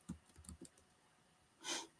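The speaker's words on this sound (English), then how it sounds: "So let me type that in there." Fingers tap quickly on a computer keyboard in a quiet room, making a short burst of soft, close key clicks and then one louder keystroke.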